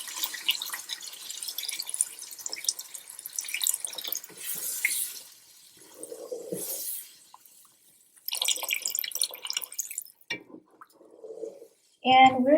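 About two cups of water pours and drips in bursts, splashing into a cooking pot of chicken korma, with quiet gaps and a clatter near the end.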